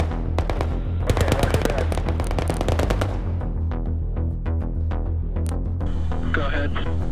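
Rapid machine gun bursts in the Command and Control 3 video game, a loud close volley of sharp repeated shots at first, then sparser single shots, with radio chatter heard over the firing.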